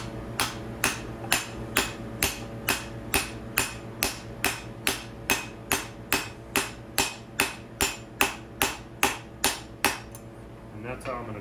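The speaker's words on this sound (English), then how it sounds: "I'm gonna line it up on there and then I'm gonna whack it with a big hammer." A big hammer strikes a socket onto a timing gear over and over in a steady rhythm, about two dozen sharp ringing whacks at close range on an engine stand, then stops.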